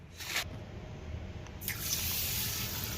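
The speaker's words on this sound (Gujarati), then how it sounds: "આપણે 250 ગ્રામ ઘઉંના ફાડા લીધા છે અને ધોઈ નાખશું 2 પાણીએ." Cracked wheat is rinsed under running water, a steady tap stream splashing and filling a vessel, growing fuller and louder toward the end.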